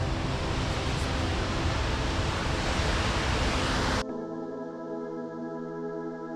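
Small mountain waterfalls near Vasuki Tal pour in a dense, loud rushing roar that cuts off abruptly after about four seconds, giving way to a quieter, steady tonal background.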